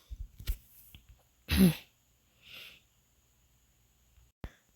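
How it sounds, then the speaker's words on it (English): A woman clears her throat indoors, a couple of short, rough rasps with a louder central burst, followed by faint breathy sounds and a small click in an otherwise quiet room. "Sorry, I have to clear my throat."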